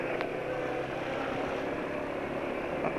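Car engine idling with a timing chain rattling in the cylinder head, heard as a steady, dense mechanical clatter and whir at close range, moderately quiet and continuous, with no speech.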